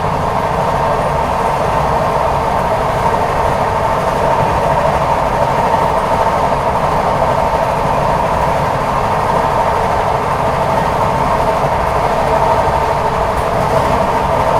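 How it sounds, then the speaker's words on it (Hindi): A Tejas Express train runs at speed between Lucknow and New Delhi, giving a loud, unbroken rumble and rattle that stays steady throughout. "भाई क्या ही गजब की रफ्तार में जो है अपनी ट्रेन भाग रही है"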